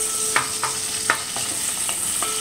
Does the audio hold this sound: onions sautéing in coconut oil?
yes